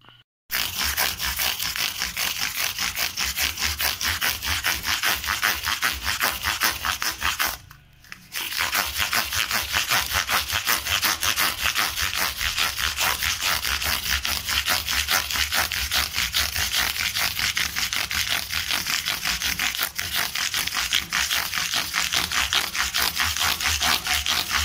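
Fine 1,500 grit abrasive rubs steadily along the frets of a Duesenberg semi-hollow body guitar, a continuous close scratchy scrubbing with one brief pause partway through.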